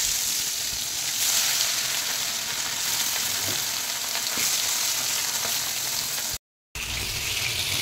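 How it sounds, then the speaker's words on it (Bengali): Bhetki fish pieces fry in hot oil with a dense, steady, close sizzle that holds evenly and cuts out for a split second near the end, with no talking. "মাছটা আমি ভেজে নেব।"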